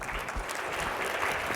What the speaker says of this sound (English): please have a round of applause for Chris